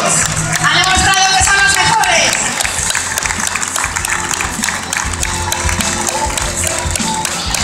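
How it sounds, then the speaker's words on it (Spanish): Crowd at a rally awards ceremony podium breaking into loud applause and cheering, dense clapping with a few whoops that stays strong throughout, outdoors with a voice on the loudspeaker over it. "Fuerte aplauso para ellos"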